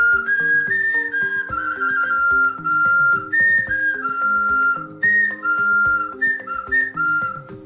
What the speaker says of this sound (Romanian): Cel mai cunoscut capitol al meșteșugului de la Pisc erau figurinele, fluiericele.